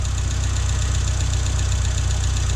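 A car engine with a new ignition coil, gaskets and throttle body runs at a steady idle with an even, rhythmic low thrum and faint ticking. There is no talking.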